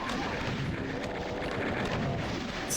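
Chaingunner enemies fire in Doom, a continuous dense roar of rapid gunshots and rumbling blasts at steady loudness, with no break across the stretch.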